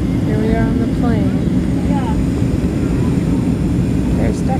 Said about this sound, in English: Here we are on the plane.